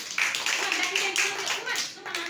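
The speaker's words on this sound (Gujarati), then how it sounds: "તાળી પાડો બધાય. સુમન તું તાળી પાડ, ઉપર તાળી પાડો." Young children at a preschool clay-shaping activity clap their hands in a brisk, uneven patter, close by, while a voice and other speech sound faintly underneath.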